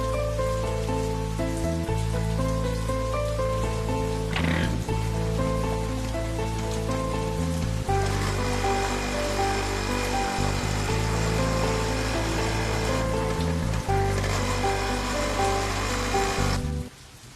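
Steady rain patters and hisses throughout, heavy and continuous, underneath a droning musical tone, ending abruptly.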